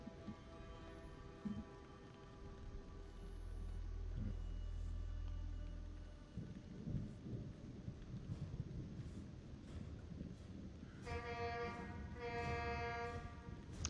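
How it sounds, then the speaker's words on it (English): A truck horn honks outside in two loud bursts near the end, after a long low rumble; no one speaks. "There's a truck outside my apartment. Don't know if you got that fun honk."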